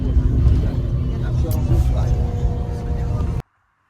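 A car driving home with a steady low road rumble and engine hum from inside the cabin, continuous and moderate, cutting off abruptly at the end; a voice speaks briefly over it.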